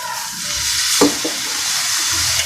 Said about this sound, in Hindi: दोबारा इसकी भुनाई करेंगे